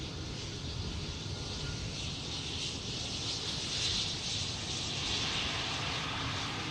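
An airliner with CF34 jet engines arrives on runway 18R Polderbaan at Amsterdam Schiphol, a steady, moderately distant engine roar with a high whine on top that swells slightly midway, with no one talking.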